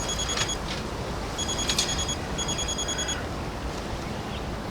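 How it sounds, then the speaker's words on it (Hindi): A telephone rings in short repeated bursts, a bright electronic trill that sounds three times over a steady background hiss. "किसका फोन है? बैरन का फोन है।"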